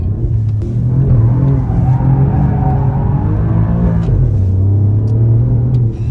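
An Alfa Romeo Giulia QV engine revs hard while the car drifts, a loud, close, continuous rumbling roar whose pitch climbs and then drops as the throttle shifts, with no voices.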